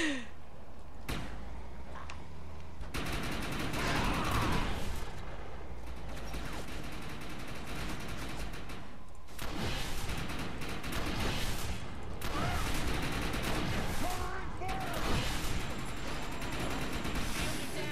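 Enemy gunfire crackles in a co-op session of the video game Defiance, with rapid bursts and a machine-gun rattle running nearly continuously over the whole stretch, broken by a few short gaps.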